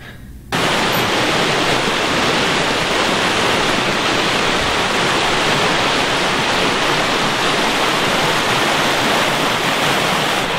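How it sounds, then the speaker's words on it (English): Loud, steady rush of creek water flowing outdoors, a dense broadband wash that starts abruptly after a brief quiet moment and holds constant throughout, with no voices. "Creek is beautiful, dude."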